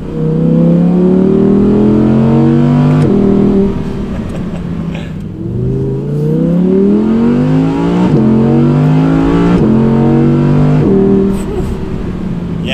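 Audi R8 V10 engine revving hard through high RPM on an open road, with loud rising harmonic sweeps that climb, drop at each gear change and climb again, close and continuous throughout.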